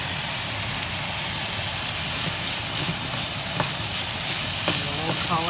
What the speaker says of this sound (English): So now I've got the beef, it's sizzling.